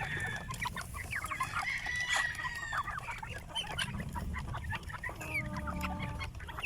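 Free range heritage and crossbreed chickens cluck and call in a farm range in the late afternoon, with a rooster crowing partway through, at moderate distance over a low outdoor background.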